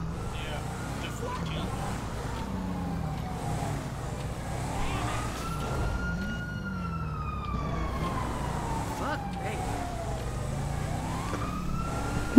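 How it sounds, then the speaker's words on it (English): A police siren in the video game GTA 5 wails steadily for the whole stretch, its rising and falling tone carried over a constant rumble of game sound at moderate volume. "That's the sound of the police."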